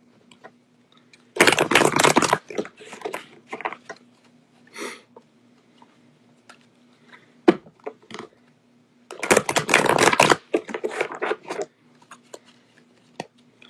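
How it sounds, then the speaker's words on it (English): Two bursts of riffling card shuffles, each about a second long, separated by quieter taps and soft handling clicks against a steady low hum. "Shuffle up the cards."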